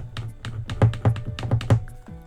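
Soft, muted button clicks on a Nintendo Switch 2, about a dozen quick, close taps in an uneven rhythm, dull and thumpy rather than sharp, with no talking over them.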